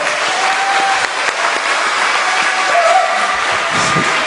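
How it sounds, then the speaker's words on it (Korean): Warm applause from a seminar audience welcoming a teacher and union representative as the speaker at an academy event, steady dense clapping filling the whole stretch at close range with no talk over it. "뜨거운 박수로 우리 맞이하겠습니다"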